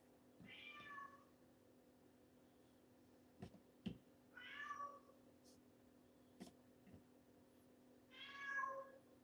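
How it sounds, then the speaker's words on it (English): A house cat meows three times, each call evenly spaced several seconds apart. The meows are quiet and slightly distant in a calm indoor room, with a few soft clicks and knocks between them. "Or y'all, I'm talking to my cat."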